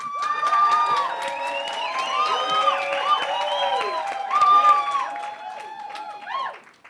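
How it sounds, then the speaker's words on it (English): An audience cheers for a debate team, a sustained crowd roar of clapping and whooping voices with high shouts rising and falling, loud and continuous before tapering off. "give them your loudest cheer"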